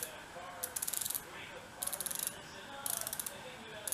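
Rapid ratcheting clicks from a BOA dial lacing system tightening its wire laces on a Clorts men's running shoe, 3F011A model, heard in three close bursts of quick ticks with pauses between.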